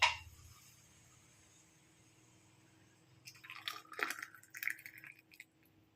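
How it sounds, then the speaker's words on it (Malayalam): Thick Kerala-style raw jackfruit payasam is poured into a glass: after a near-silent stretch, a short run of close, wet glugs and soft splashes follows, with no voices. "നമുക്ക് ക്ലാസ്സിലൊന്ന് ഒഴിച്ച് നോക്കാം"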